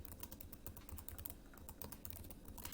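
Steady typing on a computer keyboard, a close, quick run of light clicking keystrokes with short pauses, heard alone without speech.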